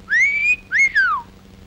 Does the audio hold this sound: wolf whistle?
yes